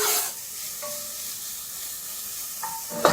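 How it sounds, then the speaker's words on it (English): Onion, garlic and mixed chilies frying in a little oil, a steady soft sizzle with faint stirring scrapes, a brief louder clatter near the start and again at the end. "So into a little bit of oil, I'm going in with the onion, garlic, and the variety of chilies."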